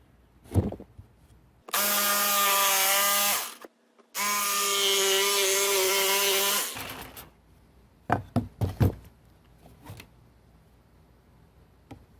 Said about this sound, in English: I'm going to take my little jigsaw. This one's a little smaller and this one's a little shorter, so I'm going to cut these two out.